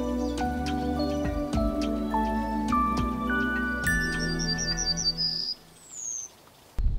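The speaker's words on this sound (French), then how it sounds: "Il y a presque chaque semaine des nouveaux oiseaux qui chantent" Birdsong in a quiet woodland, with clear ringing notes and a quick run of high chirps followed by a rising whistle.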